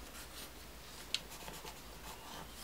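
Pen or marker drawing a marking on a paper sewing pattern for a sleeve, a faint steady scratchy rubbing stroke with one small tap, close up and without talk.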